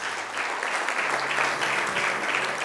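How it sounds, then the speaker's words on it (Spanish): A church congregation applauding steadily, a dense wash of many hands clapping at once that holds at an even level throughout. "denle un fuerte aplauso"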